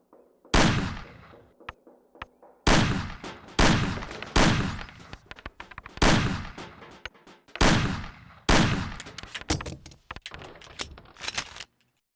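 Pistol shots ring out in a shooting tutorial from the 2002 video game Mafia, firing loud and sharp at cans on a table in bursts of single and quick repeated shots, with brief pauses between volleys.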